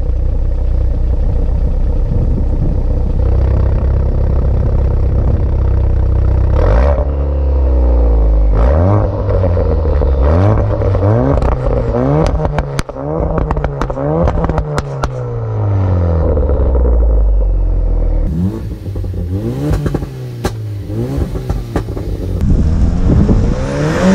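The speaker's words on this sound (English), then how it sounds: "The full Nutter Asbo exhaust is hilarious." A loud, throaty performance exhaust on a 520bhp Ford Focus RS roars through repeated rev climbs and gear changes, with pops and crackles between, close and dominant throughout.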